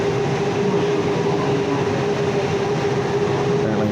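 A steady low rumble of a Valley Metro streetcar idling at a station in Tempe, with a constant droning hum running throughout and no voices.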